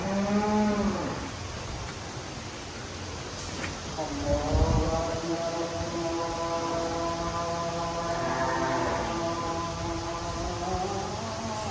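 A Sahiwal cow at a Bangladeshi dairy farm moos in long, drawn-out calls, one after another, over a steady background hum.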